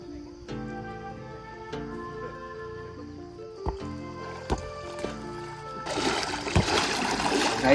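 Water splashing in a dirty, insect-strewn swimming pool. The splash comes as a loud burst near the end, after a stretch of tonal background sound with a few sharp knocks.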